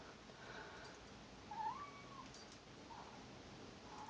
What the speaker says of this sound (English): You could probably hear my kitty in the background meowing.